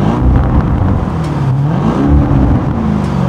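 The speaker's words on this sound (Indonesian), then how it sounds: "suara V8 itu ada rumble-nya gitu," Lamborghini Urus V8 engine revving with a deep, raspy rumble, loud and close, rising and falling steadily throughout with no talk over it.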